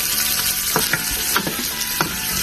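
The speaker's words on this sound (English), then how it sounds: "So I'm just going to let this fry or saute for about 1 to 2 minutes." Onions with sweet potato and cassava fry in a pan with a steady, bright sizzle, broken by a few sharp stirring scrapes and clicks, close and with no talking.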